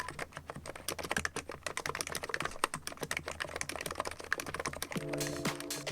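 Rapid, steady typing on a pantograph scissor-switch keyboard, a dense run of light clicky keystrokes heard close up with no talk.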